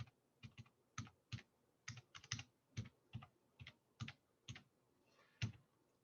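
Typing a library card number on a computer keyboard, with a steady series of crisp key clicks in irregular bursts, close and fairly quiet, with no talking.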